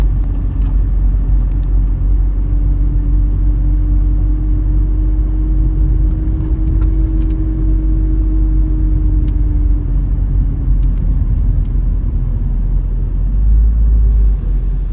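Rokke, a car, is towed by a tow truck, producing a loud, continuous engine rumble and road whir with a steady hum, close and unbroken throughout.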